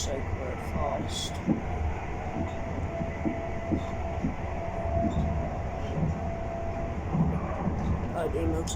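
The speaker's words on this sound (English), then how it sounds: "This train is so very fast." Inside a fast passenger train between Bournemouth and Woking, a continuous low rumble carries a soft clickety-clack rhythm, with brief faint hisses and a quiet voice underneath.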